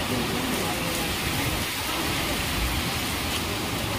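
Heavy rain pours steadily in rural Keonjhar, Odisha, a dense continuous hiss of drops drumming on surfaces, loud and close throughout with no pauses.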